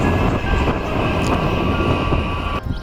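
A steady, loud rumble of a train passing a railway crossing in Spain, with a sustained tonal hum, easing off briefly near the end.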